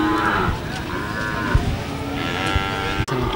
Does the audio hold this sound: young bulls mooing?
yes